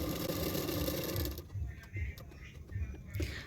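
A sewing machine stitches a fold on blouse fabric, a steady mechanical whir for just over a second that then stops, leaving faint clicks and handling noise.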